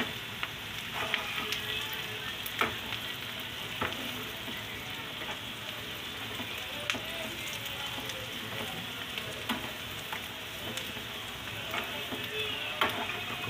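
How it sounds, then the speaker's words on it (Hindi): Onions and eggs sizzle steadily in a frying pan while a utensil stirs and scrapes through them, producing faint clicks over a constant hiss. "इसको अच्छे से मिक्स कर रहे हैं।"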